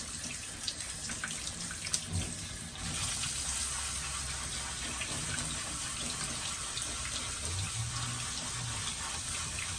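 Water runs from a tap through a strainer in a steady gush, starting more softly and then flowing fuller and louder close by, with no voices.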